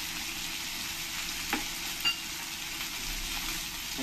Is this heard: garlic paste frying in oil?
yes